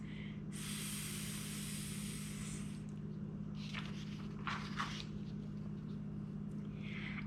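A voice imitates a snake hissing inside a radiator: a long, steady, breathy hiss lasting a few seconds, then several shorter puffed hisses, all close and fairly soft.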